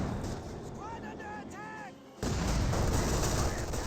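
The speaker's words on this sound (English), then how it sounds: "I heard something explode." Battle noise from the Company of Heroes 2 strategy game, where a loud broadband blast cuts in partway and keeps rumbling as dense, sustained explosion and gunfire texture, with faint whistling tones and a calmer lead-in before it.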